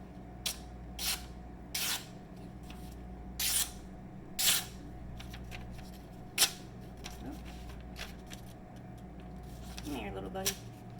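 A Spyderco Sage 5 knife blade is freehand sharpened on a 600 grit DMT diamond plate, giving quiet, close, irregular rasping strokes spaced a second or so apart against a faint background.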